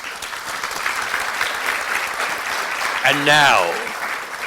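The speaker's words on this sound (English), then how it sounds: "And one more round of applause" Audience at an agile coaching conference in Prague applauding, a dense, steady wash of clapping from a crowd, with a voice speaking over it near the end.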